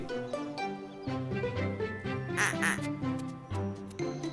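A cartoon duck quacks repeatedly in short, nasal bursts over a bouncy musical backing, the calls coming in quick uneven runs.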